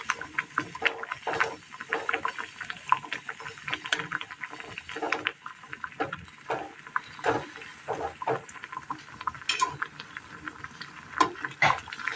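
Spinach drops into a pan of water at a rolling boil, giving close bubbling and splashing with soft irregular patters throughout and faint background voices.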